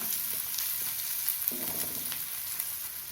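A large chopped onion fries in oil in a pan for spring onion dal, giving a steady, close sizzle with faint stirring scrapes and no talk.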